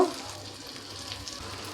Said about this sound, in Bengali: চিচিঙ্গা দিয়ে ডিমের ভাজি খেতে খুব ভালো লাগে